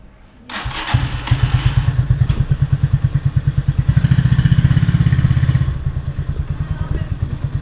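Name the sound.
motorbike riding in Vietnam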